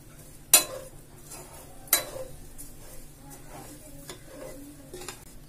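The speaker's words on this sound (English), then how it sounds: "And stir it well." Sugar is stirred in a pan as it begins to caramelize for coconut burfi, with two sharp metal knocks from the utensil followed by softer scraping strokes and light taps over a quiet hiss.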